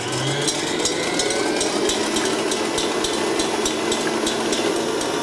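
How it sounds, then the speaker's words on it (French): An electric mixer whips egg whites for meringue at top speed, giving a loud, steady whirring drone with a fast rhythmic ticking of beaters against the bowl throughout. "vous battez les blancs d'œuf à la vitesse la plus rapide possible"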